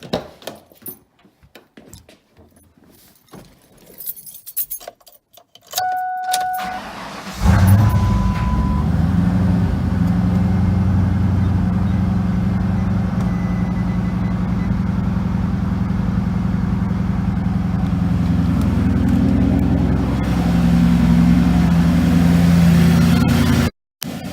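A twin-turbo 302 V8 in a truck with ten years and 100,000 miles on it. A few clicks and quiet handling sounds give way to the engine firing at about seven seconds, then a loud, steady, close idle rumble to the end.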